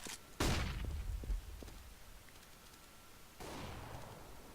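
A flashbang grenade goes off in Counter-Strike on the Inferno map, a sharp, loud bang followed by a rumbling tail, with a second burst of noisy rushing a few seconds later; no one speaks.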